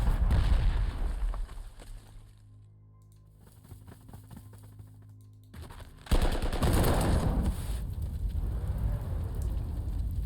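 Artillery bombardment in the strategy game Panzer Corps 2: dense bursts of gunfire and explosive crackle, dropping to a quieter stretch with tonal music-like hum before a loud renewed barrage of blasts and rumbling debris.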